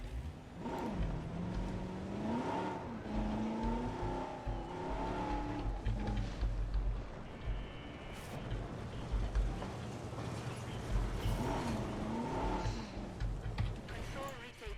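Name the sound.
car driving in Jurassic World Evolution video game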